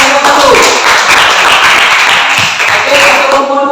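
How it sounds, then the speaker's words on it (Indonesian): Classroom applause from students clapping for a group that has just finished presenting, a dense steady wash of many hands lasting throughout with a few voices mixed in. "Tepuk tangan untuk kelompok 1."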